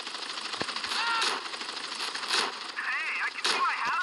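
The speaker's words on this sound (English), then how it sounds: "How many shotgun shots do you need?" Shotgun blasts from GTA San Andreas gameplay, a few sharp bursts spaced irregularly over steady game noise, with voices and chatter mixed underneath.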